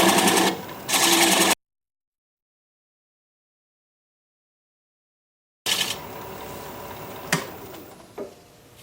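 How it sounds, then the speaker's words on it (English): A half-inch bowl gouge cuts the tenon on an alder bowl spinning on a wood lathe at around 600–700 RPM, a loud rough scraping hiss in two bursts, then a long silence, then a steadier cutting whir with a couple of sharp knocks. "We'll grab a half-inch bowl gouge."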